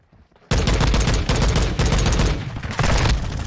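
Marksman rifle fire in Call of Duty: Modern Warfare 2 (2022) erupts after a brief quiet into loud, rapid repeated shots and booming reports, nearly continuous with short gaps.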